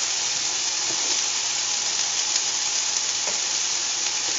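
Garlic and asparagus sizzle in a hot pan, a steady, dense frying hiss that holds at even loudness throughout, close and continuous with faint crackles and no talking.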